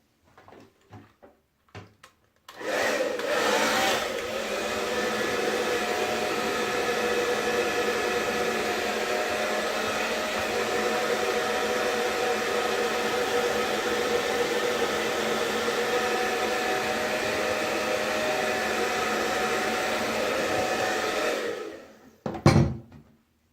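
Hair dryer on its cool freeze-blast setting, used while shaping moustache wax, switching on after a few clicks and blowing as a steady, loud, close whoosh for about twenty seconds before cutting off with a thump.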